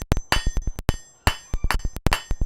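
Hot metal stock is knocked at the corners with a hammer on an anvil in a smithy, a loud, close series of around fifteen ringing strikes in quick irregular bursts with brief pauses.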